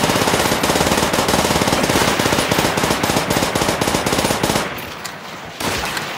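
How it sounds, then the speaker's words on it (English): Rapid machine-gun bursts and gunfire from the Call of Duty: World at War Moscow Fronts custom campaign, loud, dense and continuous for several seconds before briefly thinning, then resuming. "These guys are shooting at you."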